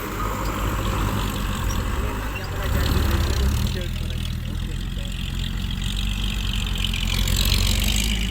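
Tractor engine running at a muddy dump truck work site, a loud, steady low diesel rumble that swells slightly midway, with people's voices in the background.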